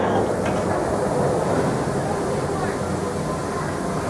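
Kings Island & Miami Valley Railroad train pulling out of its Rivertown station, a steady rumbling rail roar with faint hiss, continuous and fairly loud throughout.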